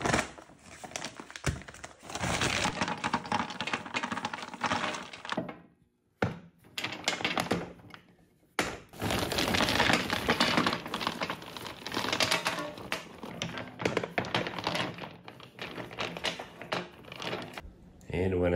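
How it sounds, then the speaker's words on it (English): Rock being poured into a wood stove hearth: a long, clattering rush of loose stones tumbling and rattling, loud and close, broken by two brief pauses, with a voice heard talking. "We're just gonna pour that rock in there."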